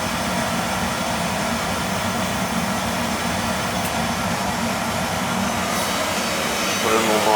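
A serviced oil burner runs with a new nozzle fitted, a loud, steady roar with a low rumble that holds evenly throughout, lifting slightly at the very end.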